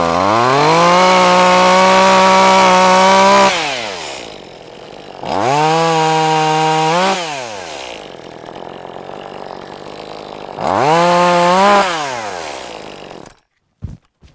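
A chainsaw prunes a diseased garden tree, with three loud revving bursts whose pitch rises and falls, separated by quieter idling stretches, before cutting off at the end.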